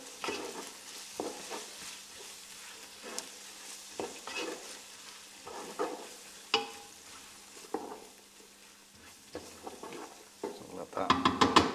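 Onion frying in a pan, heard as a soft sizzle with repeated stirring scrapes in an uneven rhythm and a clatter of utensils near the end.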